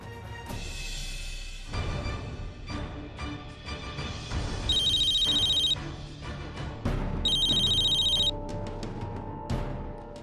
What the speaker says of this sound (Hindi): फोन लगा मिस्टर मित्तल को और यहाँ पर बुलाओ उन्हें